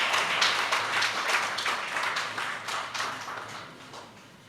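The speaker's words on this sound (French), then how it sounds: "des applaudissements" Audience applause at a Francophonie Day celebration, a dense, sustained wash of many hands clapping at moderate distance, gradually tapering off toward the end with no voices over it.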